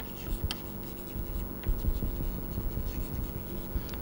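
Chalk or marker scratching across a board during a lecture on one-dimensional steady flow, with faint intermittent strokes and taps over a low room hum.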